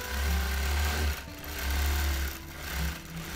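A sewing machine stitches a free motion quilting rose design in three loud, steady humming runs, each about a second long, separated by brief pauses, close up with no speech.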